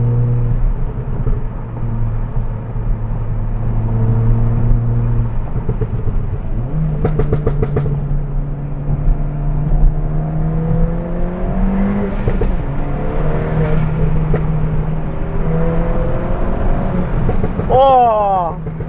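A Stage 2 tuned Ford Fiesta ST pulls hard along a twisty road with the window cracked open, its engine droning loudly from inside the cabin and rising and falling through gear changes and bends.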